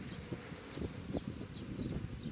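Low, steady buzzing of many honey bees close by at a hive, a dense insect drone with occasional brief higher sounds over it.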